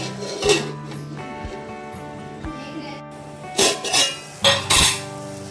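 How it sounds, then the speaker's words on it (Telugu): A metal lid clanks down onto a pot of amaranth-leaf stew, followed by a few more loud clattering knocks of cookware, close and sharp. "మళ్ళీ మూత పెట్టేసేద్దాము"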